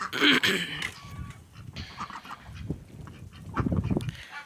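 A goose honks repeatedly in short, raspy calls, fairly close, with some rustling in between and no talking.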